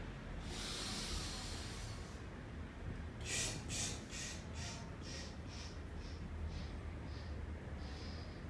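Deep, forced breathing exercise for building chest capacity: a sequence of hard, hissing breaths, close and fairly quiet, in short rhythmic pulses over a breathy background, with no talk.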